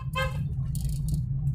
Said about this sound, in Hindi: जानवरों को हॉर्न दो